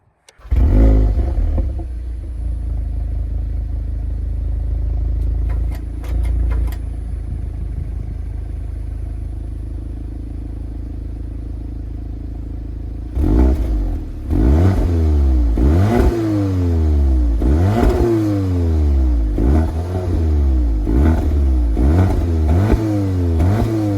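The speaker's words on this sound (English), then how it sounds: "Now that is what the awesome exhaust sounds like in the dynamic mode" A 2023 Audi TTS exhaust idles with a deep rumble in dynamic mode, then revs hard in repeated sharp bursts, loud and close, with no talking.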